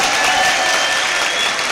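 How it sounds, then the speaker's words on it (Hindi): Audience applause at an All India Mushaira poetry recital in Wardha, a steady wash of many hands clapping, dense and continuous for the whole stretch with no voices on top. "नहीं ताली बजाइए, मैं देख रहा हूं कितने लोग बजा रहे हैं"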